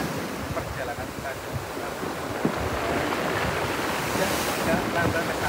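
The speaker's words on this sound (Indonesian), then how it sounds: "artinya mengikuti tarian-tarian daripada ombak ini" Ocean waves wash onto a beach on Java's south coast, a loud, continuous roar of surf with strong wind buffeting the microphone and a faint voice partly beneath it.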